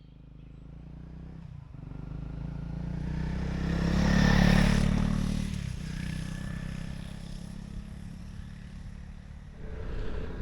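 A Honda CRF300 motorcycle rides trail terrain, its engine droning steadily and swelling louder mid-ride before easing back, with wind rush and gear clatter throughout.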